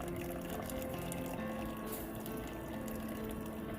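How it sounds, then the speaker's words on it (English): Water or coffee pouring steadily into a mug, a continuous close liquid stream with a slowly shifting pitch as it fills, with no voices. "Tell me that's not the best sound, is water or coffee pouring into your mug right before you enjoy it."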